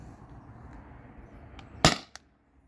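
A Beeman air pistol fires a single rubber steel ball: one sharp, loud crack stands alone over faint background hiss, followed a moment later by a fainter, shorter click.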